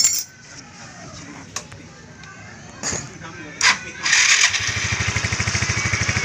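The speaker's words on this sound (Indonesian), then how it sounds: "Sementara sudah saya pasang, jadi kita coba tes nyalakan dulu." Brief starter whirr and clatter from a Suzuki Skywave scooter with its starter motor just repaired, then the engine catches and runs in a steady, pulsing idle close by, after some faint handling noises.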